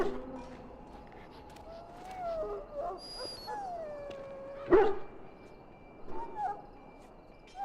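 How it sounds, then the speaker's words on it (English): A dog in Dragon Age: Origins whimpers and yips with thin, rising whines, plus one sharp louder bark partway through, set over a low ambient game soundscape. "Now I can treat the dog properly, poor fella."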